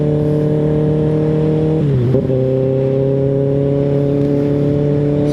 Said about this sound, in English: you'll hear the bike kind of get louder as you give it gas